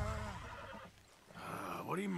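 An injured horse in the Red Dead Redemption 2 game, a loud wavering whinny at the start followed by another rising neigh, with a voice underneath.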